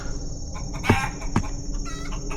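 A cartoon chicken gives two short, sharp clucks over a steady background hiss, fairly close and brief.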